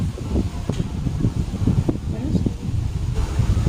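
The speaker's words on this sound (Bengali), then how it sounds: "প্রচণ্ড হাওয়া হচ্ছে, বৃষ্টি আসবে, মেঘলা করে অন্ধকার করে আসছে।" Strong, gusty wind ahead of a rainstorm rumbles and buffets continuously at close range, with someone speaking over the roar.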